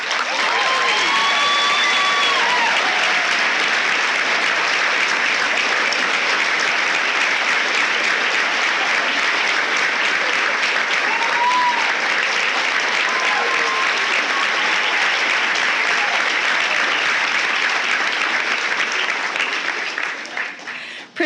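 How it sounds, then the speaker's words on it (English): Sustained applause from a large audience at a high school senior awards night, dense and steady for about twenty seconds, with a few scattered voices and cheers, before tapering off at the end. "please join me in a round of applause to congratulate Tyler"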